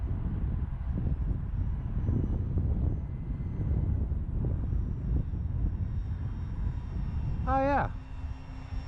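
An RC model Beechcraft D-18 airplane flies overhead, its engines giving a steady drone through wind noise on the microphone, with a brief rising whine near the end before the sound drops away.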